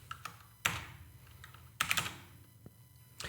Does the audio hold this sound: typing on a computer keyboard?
yes